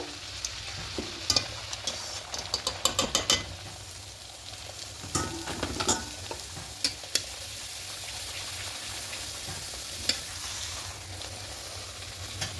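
Spinach puri slipped into hot cooking oil, crackling and sizzling steadily at close range with a cluster of sharper pops early on, then settling into a quieter, even fry with occasional spits and no talking.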